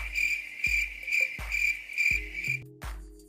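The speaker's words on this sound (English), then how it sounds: "crickets in Nebraska" Crickets chirp in a steady, shrill pulsing pattern, close and clear, with a few low thumps and a brief tonal hum breaking in near the end.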